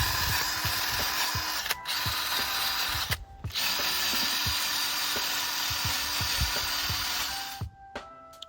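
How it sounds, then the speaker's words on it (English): A power drill used to sand and rub down brake calipers before painting, whirring in long steady bursts with short pauses between, and small scraping, rattling contact sounds over the motor. "after a quick kind of rub down with the drill or your sandpaper"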